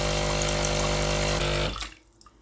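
Water surges steadily through a Sage Barista Express espresso machine during descaling, a loud continuous rush that cuts off abruptly, leaving near silence with faint trickles.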